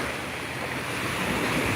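Ocean waves wash onto a clear-water beach ringed by mountains, a soft continuous surf hiss mixed with light wind noise on the microphone, fairly faint and steady.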